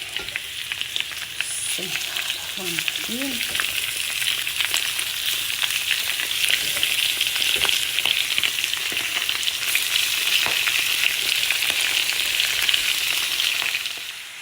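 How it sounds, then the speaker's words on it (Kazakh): Chopped meat frying in fat in a cauldron for kuyrdak, a loud, dense, unbroken sizzle heard up close, with a brief low scraping early on and no speech. "Ет пен май тамаша қуырылып жатыр."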